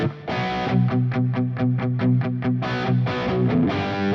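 A distorted electric guitar, reamped through a Nux MG-300 with chorus added, strums and picks rhythmic chords with a shimmering, doubled tone, steady and loud throughout.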